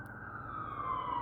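An ambulance siren wails with a steady rising tone, fairly clear and close.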